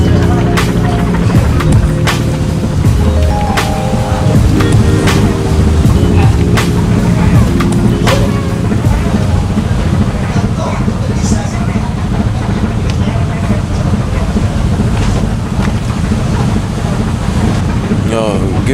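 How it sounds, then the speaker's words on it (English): Steady, loud wind buffeting the microphone with low engine rumble beneath, continuous throughout, out on the open deck of a ship heading to sea in the Philippines. "now we're gonna have a really nice breezy ride instead of the stuffiness of downstairs"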